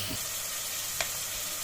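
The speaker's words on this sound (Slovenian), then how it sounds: "Čebuli sem dodala šampinjone, jih bom zdaj prepražila, potem bom dodala pa še česen." Onions and mushrooms fry in a pan with a steady, close sizzle that continues evenly throughout, one small sharp tick in the middle, and no talking.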